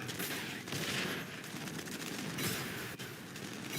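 Artillery and gunfire in the Warpath video game during a tournament final, a dense continuous rumble of overlapping blasts without pause, fairly steady in level with a sharper hit at the very end, no voices.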